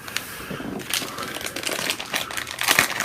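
Game cards from the board game Dead of Winter being shuffled and handled on a table, giving a close, steady run of papery crinkling and flicking for a few seconds.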